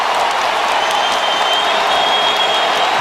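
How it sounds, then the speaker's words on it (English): Basketball arena crowd giving Kobe Bryant a standing ovation at a Lakers game against the Denver Nuggets, a continuous roar of applause and cheering that stays loud and steady, with a faint voice buried in the din. "He goes out to a standing O,"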